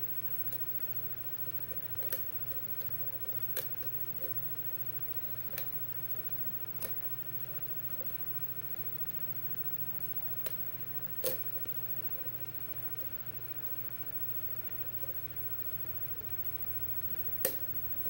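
Faint, sparse clicks of pins setting inside a Lockwood oval lock with security pins during picking, scattered irregularly over a low steady hum, with no talk.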